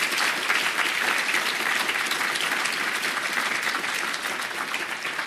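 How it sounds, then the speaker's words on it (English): A conference audience claps in a dense, steady burst of applause that holds at full strength throughout and starts to fade slightly near the end. "So let's give them a round of applause."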